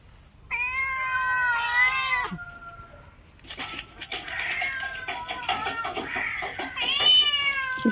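A cat meows repeatedly in a home, giving several close, drawn-out calls with short breaks between them and a steady faint high hum in the background.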